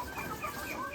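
Many laying hens cluck and chatter together in a busy, continuous murmur, close by, with no single call standing out.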